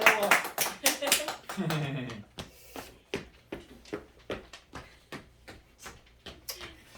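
Congregation clapping at a Baptist church Sunday service: a burst of quick unison claps, then a steady rhythmic beat of single claps continuing throughout at moderate loudness, with voices mixed in early on.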